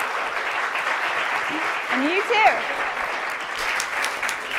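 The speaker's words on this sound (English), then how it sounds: "Give them a round of applause." Audience applause at an academic spring symposium session, a steady wash of clapping throughout with a short spoken remark over it.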